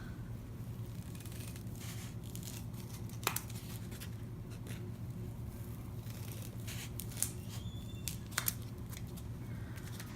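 Quiet, close snipping and squishy cutting as scissors take a wedge out of a thin sponge or pool noodle slice, a few soft irregular cuts over faint background hum.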